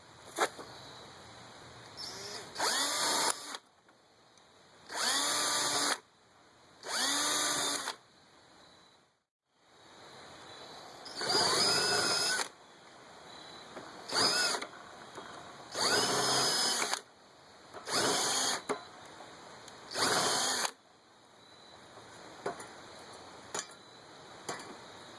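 A power drill with a 1/8-inch bit whirs in repeated bursts of a few seconds each, stopping and starting as holes are drilled in a quart tin can.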